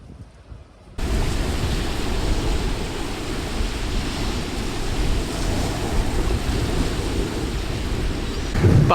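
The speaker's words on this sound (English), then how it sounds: "you've got the sea as well" Sea surf rolling onto a sunny beachfront on a warm, breezy day, a steady broadband wash of waves with wind noise that swells in after a quiet opening second and continues unbroken, fairly close and loud.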